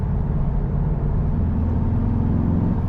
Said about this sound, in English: The V8's just rumbling away in the background